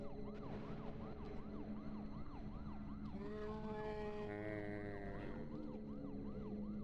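Police car sirens in the video game Deadly Premonition: Origins wail in a steady repeating rise-and-fall, with a second, higher siren tone layered in midway, alongside a low engine hum.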